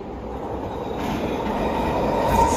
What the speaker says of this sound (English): This is SkyTrain.